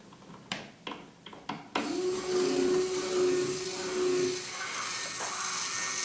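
A few clicks and knocks come first. Then the small motors in a pair of 1/350 Star Trek TOS Enterprise model kits start up and settle into a steady whirring hum with a faint tonal whine.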